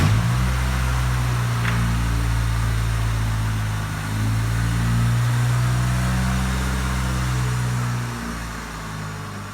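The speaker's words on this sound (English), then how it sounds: "The car runs great, but of course it lacks power, and I'll say this, it's very drivable on the back roads." A Saturn car running on a lawnmower carburetor during a road test on back roads, its engine droning steadily from inside the cabin with shifting, wavering pitch as it pulls along, no talk.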